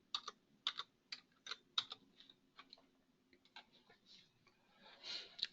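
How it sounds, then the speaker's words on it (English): Quick, light keystrokes tap on a computer keyboard as search keywords are entered, a close, quiet run of clicks in small irregular bursts with brief pauses between words. "So I'm going to type in the keywords profile"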